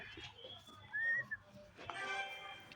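Short whistled notes, a sustained tone followed by a brief rising note, fairly quiet against faint background noise, with a sharper sound near the end.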